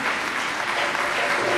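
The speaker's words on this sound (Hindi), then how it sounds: "कलीसिया की भरपूर तालियां होनी चाहिए।" A church congregation applauds continuously at an ordination day celebration, dense steady clapping from many people filling the whole moment.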